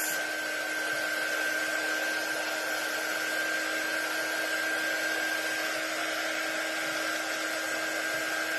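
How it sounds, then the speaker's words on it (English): A Mason jar door hanger craft project being dried with a hair dryer, a steady, close, even whir with a high whine that runs unbroken from start to finish, with no talking. "I want to dry this really well, including my little targets."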